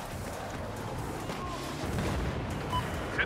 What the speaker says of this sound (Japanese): この大砲。